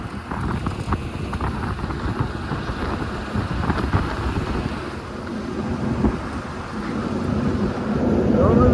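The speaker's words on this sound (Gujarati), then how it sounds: "પવન આવે છે." Wind rushing past a moving truck on the road, a loud, steady low roar and buffeting on the microphone that builds slightly toward the end.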